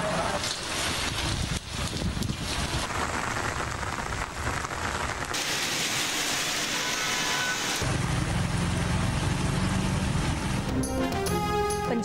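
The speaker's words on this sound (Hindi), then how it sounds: "लाहौर के मुख्तलिफ इलाकों में बारिश" Steady rain falling across various areas of Lahore, a dense continuous hiss of drops on surfaces that stays loud and even throughout, with no speech over it.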